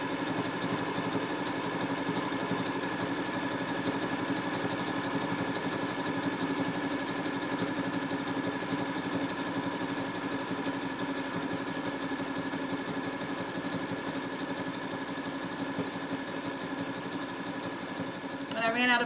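A sewing machine stitching a coiled rope bowl, a steady mechanical whir and hum that runs evenly and close for the whole stretch, ending with a small bump in level.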